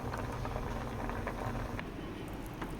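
Potatoes boil in a pot of water, a close, steady bubbling and pattering that carries on evenly throughout without a break.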